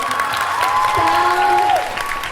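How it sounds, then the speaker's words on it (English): A theatre audience applauds the stage crew after a show, a steady wall of clapping and crowd noise with a brief sustained tone rising over it partway through. "give a special hand to the special applause to the stage crew"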